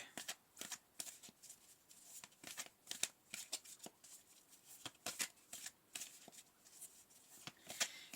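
Tarot cards are shuffled in quick, crisp riffling bursts and soft slides, repeated irregularly at close range and quiet overall, with no speech.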